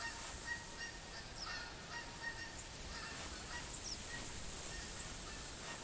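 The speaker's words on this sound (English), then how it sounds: "It's great to hear geese when you're hunting geese." Geese honk faintly and in the distance over a steady, hissy outdoor ambience in the hunting game theHunter Classic, with a few scattered calls and no talking.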